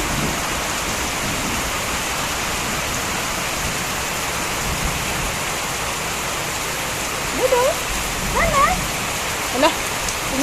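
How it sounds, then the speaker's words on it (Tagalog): Heavy, steady downpour roars as a dense continuous wash throughout, with a few faint voices and small sounds breaking through near the end. "Pag ganito kalakas yung ulan"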